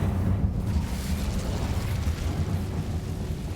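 An Incendio fire spell in Hogwarts Legacy gives a continuous roaring, rumbling burst of flame, dense and low, held at steady loudness for several seconds with no talking.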